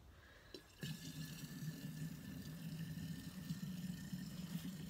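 Water poured steadily into a grow bag pot of bagged soil, a continuous rushing fill that starts abruptly after a brief quiet moment and carries on evenly, with no voices.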